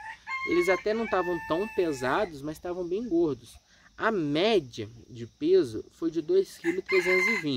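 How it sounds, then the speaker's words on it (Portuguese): Roosters crow in the background on a free-range chicken farm, several drawn-out calls overlapping one another, while someone talks steadily over them. "Olha os galos cantando aí"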